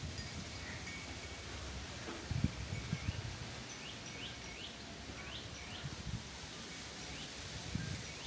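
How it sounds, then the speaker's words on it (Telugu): Wind rushes steadily through leaves, a broad rustling hiss, while small birds chirp now and then in the background. "చూసారా గాలి ఎంత గట్టిగా వస్తుందో."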